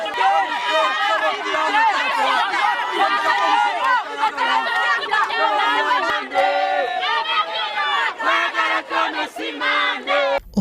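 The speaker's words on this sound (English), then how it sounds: "Officers briefly struggled to disperse the crowd as residents demanded answers over the disputed election outcome" A crowd of residents is dispersed by police at a gathering over a disputed election, dense shouting and agitated chatter from many voices, loud and continuous throughout.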